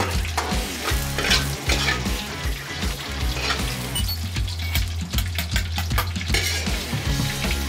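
Ingredients for jjamppong, including bean sprouts and meat, are stir-fried hard in a hot pan at a Korean restaurant, with a loud, dense sizzle over rhythmic scraping and clanking of a utensil against the pan.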